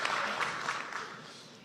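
Audience applause follows a speaker at a debate, a quiet, even patter of many hands heard from a distance, fading slightly toward the end.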